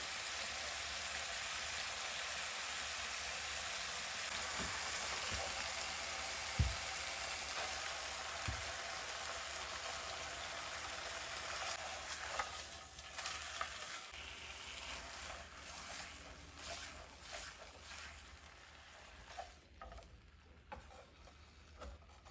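Pork chops fry in a pan with a steady, dense sizzle and crackle, joined by occasional soft clanks and thumps of handling, close and continuous with no voices.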